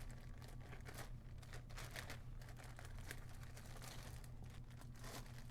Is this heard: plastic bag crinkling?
yes